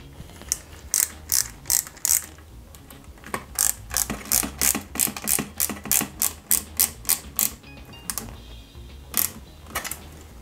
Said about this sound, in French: on va assembler cette pièce sur le tableau, comme ceci, avec deux vis IP